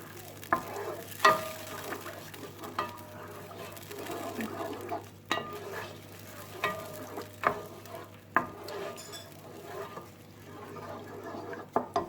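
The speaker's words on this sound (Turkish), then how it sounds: "Şöyle güzelce salçalarımızı dağıtalım." Tomato paste being stirred into water in a pot for stuffed grape leaves, with irregular scraping and tapping of a utensil against the pot over a quiet background hum, close and moderately loud.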